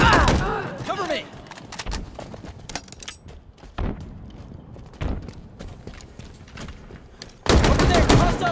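Bursts of gunfire and explosive booms in a Halo Infinite tech demo battle, irregular clusters of sharp shots with louder blasts at the start and end, mixed with combat shouts.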